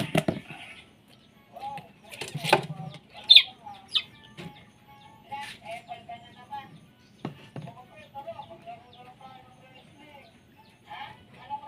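Backyard chickens making soft clucks and chirpy calls scattered through, near and moderate, alongside a person talking and occasional handling noises.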